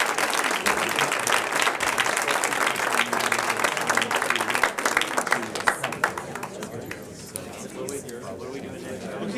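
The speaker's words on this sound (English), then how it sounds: "Let's have a round of applause for our first team." An audience at a fourth annual history quiz bowl applauds a quiz team: dense, loud clapping for about six seconds that thins and fades out, with some chatter underneath.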